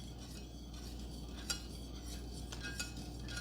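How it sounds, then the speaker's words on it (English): A spoon stirs peppermint mocha coffee creamer in a container, giving faint, soft swirling with a few light clinks against the side, heard close and quiet. "we're just going to go ahead and give this a little stir"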